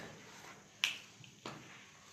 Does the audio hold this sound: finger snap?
yes